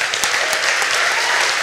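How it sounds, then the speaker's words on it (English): Congregation clapping hands at a church service, a full crowd of applause sustained and even for the whole short stretch. "Clap your hands"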